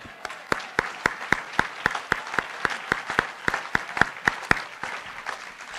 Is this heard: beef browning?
no